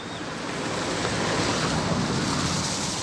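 A swollen, rising river during a flood, heard as a continuous loud rushing roar of water with wind noise buffeting the microphone, steady throughout.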